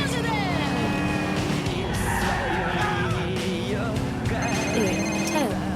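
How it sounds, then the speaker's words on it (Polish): A mobile phone rings in the video game GTA IV while a car drives along, with a repeated electronic ringtone over steady engine and road noise and someone talking over it. "I Roman dzwoni."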